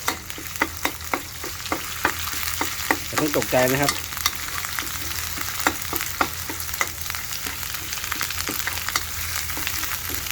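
Curry paste sizzles and crackles steadily in a hot wok, with rhythmic scraping taps of a utensil stirring throughout; someone speaks briefly.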